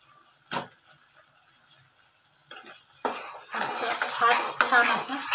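Cashew curry masala frying in oil in a dhaba-style home kitchen, with a spoon clattering against the pan in bursts that grow busier and louder toward the end, after a quiet start.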